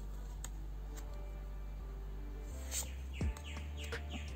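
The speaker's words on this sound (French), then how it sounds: "Il y a des oiseaux en face de chez moi, on les entend beaucoup." Faint birds chirp intermittently across the street from a home over a steady low hum, with a few brief tweets near the end.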